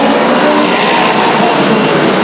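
Race cars roaring down the backstretch at Stockton 99 Speedway, a loud, dense wall of engine noise from the pack that holds steady and close throughout.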